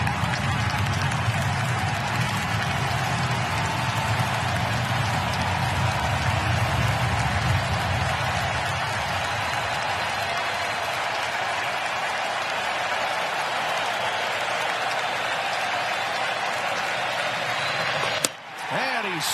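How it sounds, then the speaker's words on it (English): Loud, dense crowd roar fills a baseball stadium during a National League Championship Series game between the Dodgers and Brewers, sustained cheering and applause swelling early then holding steady, with a brief sharp bump near the end. "Crowd is loud."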